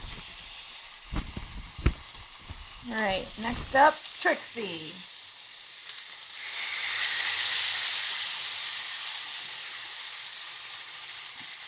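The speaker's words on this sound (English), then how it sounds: "It's like hardcore sizzling happening." Marinated garlic ginger chicken hits a hot pan, a broad steady hiss of frying that swells midway and holds loud; before it, someone speaks briefly over clattering handling sounds.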